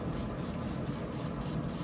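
A spray bottle mists chicken on a Walmart Expert pellet grill, a steady close hiss with faint rhythmic pulses from repeated pumps, heard alone.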